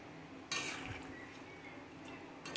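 A lid goes onto a cooking pot of boiling sukto vegetables with green chillies, a metallic clank followed by a brief rattle and a second clink, close and fairly quiet, with no talking.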